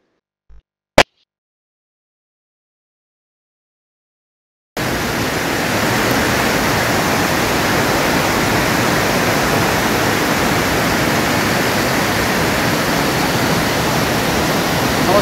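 Foaming waterfalls in the dense green forest near Parner give a steady, broad rushing roar that starts abruptly after several seconds of near silence and a couple of small clicks, then holds evenly.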